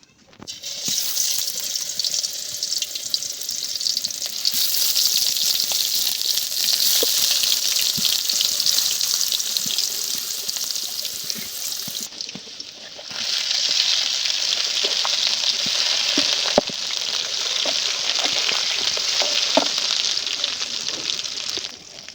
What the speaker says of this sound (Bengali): শাক ভাজা হয়ে গেছে, একদম লাল লাল করে ভেজে নেবো